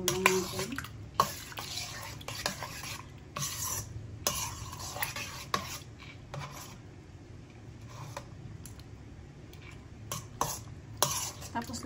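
Spoon stirring macaroni fruit salad in a bowl, giving soft, wet, squelchy scrapes in irregular bursts with occasional sharper clinks, close and fairly quiet.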